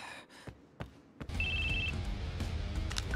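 A phone in the Crisis Core: Reunion game rings with a short high electronic trill, clear over a bed of game sounds and a few sharp thumps.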